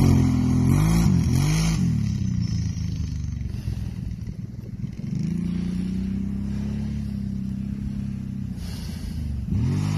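Kawasaki Brute Force ATV engine revving hard during a wheelie, loud and close, with the pitch rising and falling through repeated throttle surges and a rattly mechanical clatter beneath.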